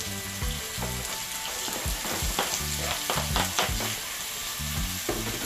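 Seasoning sautés in a hot pan for escovitch chicken, a steady loud sizzle broken by repeated stirring scrapes and clatters, with no talking.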